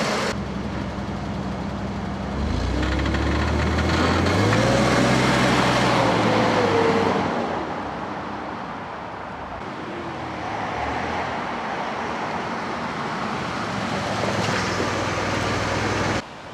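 A 1995 Ford Explorer engine idles steadily after a fuel filter change, a low continuous rumble that rises briefly in pitch as it revs, then settles back to a smooth idle.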